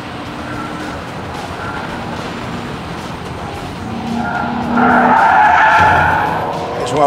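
A Lexus slides sideways around a race track during a track day, its tires skidding in a steady, loud hiss over the engine's drone, swelling into a sharper squeal toward the end.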